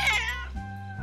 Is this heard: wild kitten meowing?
yes